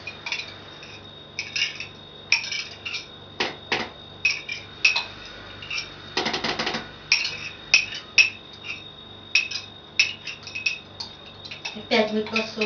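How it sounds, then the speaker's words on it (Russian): Dishes, cutlery and pots are washed by hand, producing repeated bright clinks and clatters in irregular bursts, close up, over a low steady background hum. "Опять мыть посуду."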